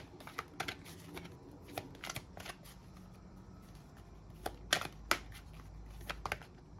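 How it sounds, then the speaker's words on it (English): Tarot cards from the Good Tarot deck being pulled and shuffled, giving soft, scattered papery flicks and taps at close range, quiet overall, with a few sharper snaps near the end. "I'm going to also just pull a few cards from the Good Tarot to get any further clarifying messages on this."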